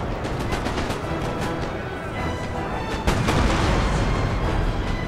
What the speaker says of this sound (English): So I'm still firing canister shot